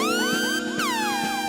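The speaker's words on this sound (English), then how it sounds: "we need the sirens right now because this is" A siren sound effect wails, sweeping up and down in rapid repeating cycles, loud and close, with no voices over it.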